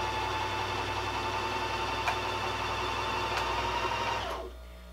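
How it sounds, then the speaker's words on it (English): A sewing machine runs steadily while winding a bobbin, a continuous close mechanical whir with a fine high hum that holds even for several seconds and then cuts off near the end, leaving a quiet room. "put your machine on, and then start winding"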